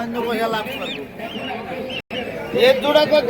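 Chinese geese honk and cackle repeatedly in a busy flock at a market, mixed with people talking nearby.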